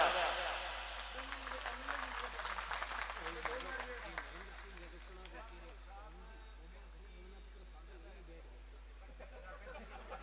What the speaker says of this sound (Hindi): एक बार पुनः तालियों से स्वागत कर दें आप।